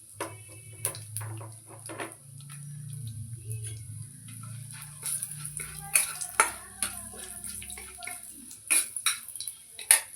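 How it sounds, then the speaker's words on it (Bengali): Gobindobhog rice is fried and stirred in oil in a pan. Irregular scraping clicks and taps from a spatula sound over a soft sizzle, getting busier and louder toward the end. "এই যে গোবিন্দভোগ চালটা আমি এই তেলের মধ্যে ভালো করে ভাজবো।"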